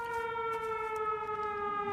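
An air raid siren sounding in the video game Everybody's Gone to the Rapture, a steady sustained wailing tone with rich harmonics, slightly distant and moderately faint, holding for the whole stretch without talk.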